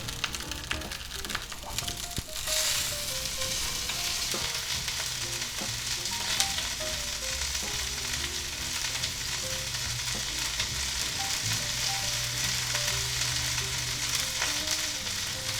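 A thick chuck steak sears in an iron frying pan with a steady, close crackling sizzle that continues unbroken throughout.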